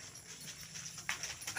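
A horse being ridden and trained for a race clip-clops along with quick, irregular hoof strikes, moderately close over steady outdoor background noise.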